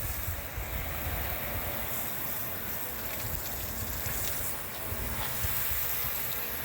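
Steady outdoor wind on a chilly, breezy day rushes across the microphone in a constant broadband roar with slight gusting swells, no voices present.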